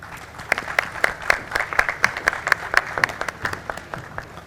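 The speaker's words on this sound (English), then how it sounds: "A huge round of applause." An audience at a conference session on startups and MSMEs gives a warm round of applause, dense clapping building and then thinning out over several seconds.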